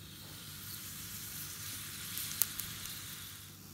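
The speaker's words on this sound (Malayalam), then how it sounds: "ഒരു മൂന്ന് ഉണക്കമുളക് രണ്ടായിട്ട് പൊട്ടിച്ചിട്ടിട്ട് കൊടുക്കാം." Dried red chillies, broken in half, frying in hot coconut oil, a faint steady sizzle with a single sharp crackle partway through and a few softer pops after it.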